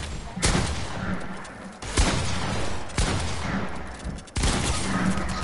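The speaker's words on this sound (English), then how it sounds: "Oh, I shot you, bro." Gunfire in the video game Fortnite, loud, dense bursts of rapid shots in several volleys with brief gaps, continuing for the whole stretch.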